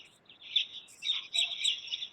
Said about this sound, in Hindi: तुम्हारे तरफ पक्षी शोर कर रहा है।